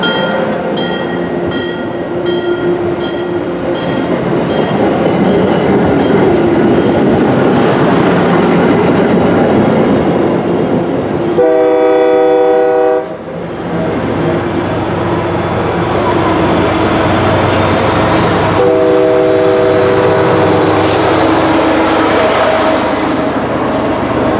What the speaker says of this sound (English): Then Keolis 718 leaves Forest Park with the CTC-3 leading number 1506, which has one of the best sounding K3Ls on the entire MBB fleet